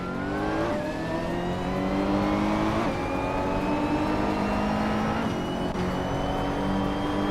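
A 2009 BMW 134 Judd V8 race car in a racing video game screams through sustained high revs, its engine note climbing steadily with sharp drops at each gear shift, loud and continuous throughout.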